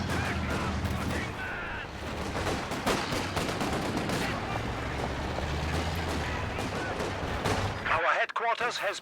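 MG42 machine gun fire in a World War II real-time strategy match, with dense rapid bursts and heavy booming shots layered under constant battle noise, a sharp crackling burst near the end.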